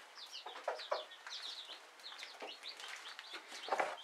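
Booted Mille Fleur bantam chickens and chicks gathered at their feed, giving a continuous, faint stream of soft clucks and high cheeping calls at close range, with no talking.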